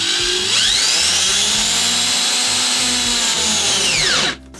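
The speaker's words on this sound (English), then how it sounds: "drill holes all the way through to install the handle" A power drill whines steadily at close range, drilling through a drawer front to fit a handle, its pitch rising as it spins up and falling away when it stops.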